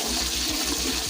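Onions sizzle loudly and steadily in hot oil for chicken pulao, a dense close hiss with a faint low pulsing underneath and no speech.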